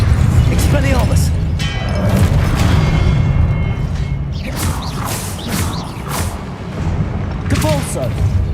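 Expelliarmus spell cast in Hogwarts Legacy, a series of booming magical blasts with mechanical clanks and crackling impacts, loud and close, with a voice calling out over the game sounds.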